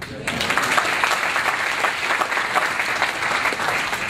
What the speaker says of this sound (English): You need to clap on that.